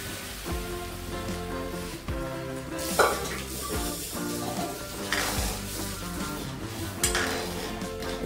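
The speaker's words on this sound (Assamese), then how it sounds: "এতিয়া ভালদৰে এইখিনি লৰাই লৈছোঁ" A spoon stirs a pot of fish curry with colocasia leaves, scraping and knocking against the vessel in uneven strokes over a soft simmering sizzle, close by, with a sharper clatter near the middle and no talking.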